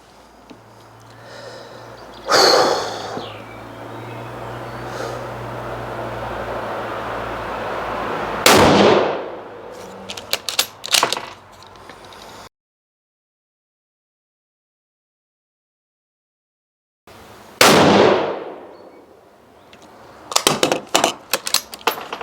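Suppressed rifle shots are fired one at a time in a group, each a sharp, loud crack followed by a fading tail, with gaps between them and a few quieter clicks from handling in between.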